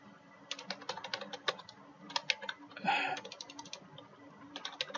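Computer keyboard keys tap out text at a steady, uneven pace, quiet close-up clicks with a brief rustle in the middle and faint room hum behind.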